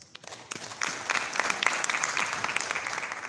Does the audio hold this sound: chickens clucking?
no